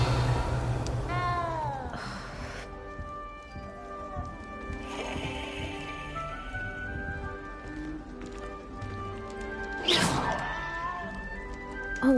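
A cat meows repeatedly in the video game Hogwarts Legacy, its calls rising over a steady bed of music and ambience, with a louder cry near the end.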